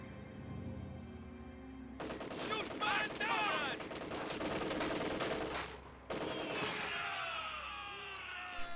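Kubelwagen machine gun firing in a strategy video game, rapid bursts of gunfire in two long stretches broken by a short pause, with faint battle noise before the shooting starts.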